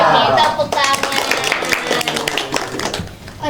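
Schoolchildren in a classroom clap their hands in a quick rhythmic pattern, mixed with children's voices.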